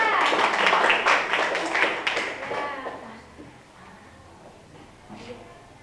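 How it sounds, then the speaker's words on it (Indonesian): A classroom group claps for group 3, a dense burst of applause in the first half that thins and fades, with voices chattering underneath and carrying on after the clapping dies down. "Oke, tepuk tangan dong untuk kelompok 3."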